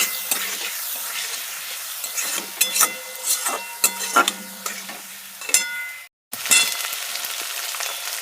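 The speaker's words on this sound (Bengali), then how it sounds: "এবার একটু মশলাটাকে ভেজে নেব।" A ground paste of cumin, ginger and green chili fries in hot oil for a vegetarian dish, hissing loudly while a spatula scrapes and clatters against the pan in uneven strokes, then pauses briefly before the sizzling resumes.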